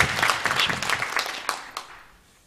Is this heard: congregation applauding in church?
yes